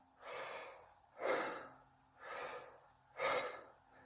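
Forced clavicular breathing with the shoulders lifting: four loud, rhythmic breaths alternating inhale and exhale, each about a second long, close and clear with no talk.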